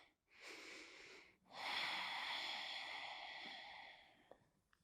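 Slow, audible breaths during a standing yoga balancing pose: a short soft inhale, a pause, then a long steady breathy exhale lasting a couple of seconds, close and quiet.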